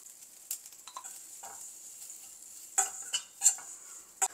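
Tempering spices being stirred in a pan: mustard seeds, cumin, asafoetida, dried and green chillies, and curry leaves. A soft sizzle runs under scattered scrapes and clinks of a spoon, with a few sharper taps near the end, quiet and close.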